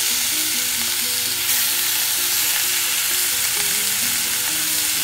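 Bacon hisses and crackles loudly in a heated frying pan for carbonara, a constant dense sizzle with faint tonal hum underneath and no voices.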